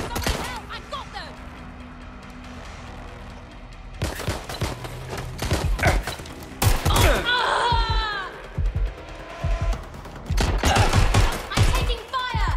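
Gunfire in Watch Dogs Legion, with bursts of rapid shots and heavy impacts scattered through the scene, loud and close, over a low ambient bed, with characters shouting in between.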